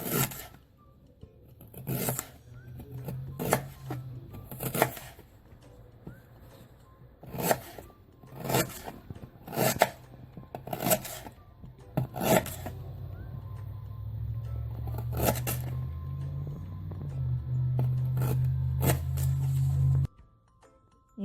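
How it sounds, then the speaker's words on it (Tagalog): A knife cuts fresh ginger into chunks on a board, a series of sharp, separate chopping and scraping knocks at an uneven pace, close and clear, followed by a low rumbling hum near the end. "Hiwain ang luya ng ganyan kalalaki."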